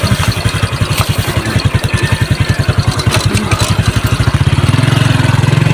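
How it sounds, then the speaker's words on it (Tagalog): A motorcycle rides slowly along a narrow path near Liong Falls in Mindanao, its engine loud and close with an even, rapid thumping pulse before it revs up slightly near the end; no talk. "dahan-dahan lang tayo sa pag biyahe dito pag ano sa motor"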